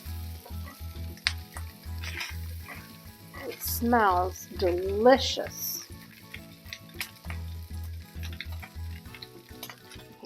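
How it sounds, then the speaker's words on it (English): Carnitas pork crisping in a cast iron pan, a steady sizzle and crackle of frying meat running throughout with occasional utensil clinks, while a person speaks briefly over it. "You hear that sizzling still?"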